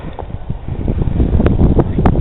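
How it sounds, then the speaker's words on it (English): Strong blizzard wind batters the microphone outdoors, a loud, gusty low roar with buffeting thumps that build and stay heavy through the short stretch. "It's really windy, dangerous out here."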